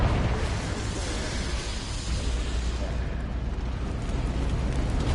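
A Confringo blasting spell explodes in a video game, a loud broad rumbling blast with a dense crackling wash that holds steady for several seconds.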